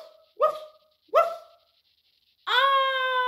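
A dog gives two short sharp barks about a second apart, then a longer drawn-out whining yelp, loud and close with no other sound around.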